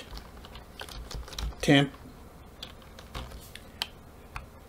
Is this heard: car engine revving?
no